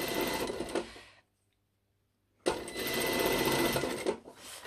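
Sewing machine running a narrow topstitch about 1 mm from the edge of a lined jacket, two steady bursts of close, fast stitching separated by a short silent pause.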